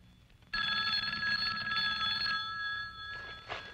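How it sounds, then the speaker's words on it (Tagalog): A telephone bell rings loud and steady in a Filipino drama scene, a long metallic trill that starts abruptly and runs for about two seconds, then fades and returns as a softer, shorter ring, with no voices over it. "The phone is ringing."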